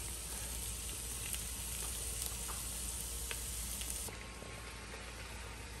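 Carrots and red onion sizzle steadily in a hot pan for a chicken stew in red wine, a constant close frying hiss with faint stirring clicks and no talk.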